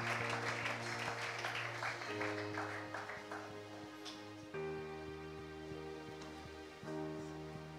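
A church congregation claps and cheers in praise during a worship service, sustained crowd applause that swells and fades over steady organ or keyboard chords, no speech on top.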